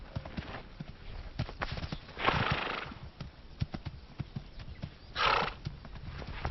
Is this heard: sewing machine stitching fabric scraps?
no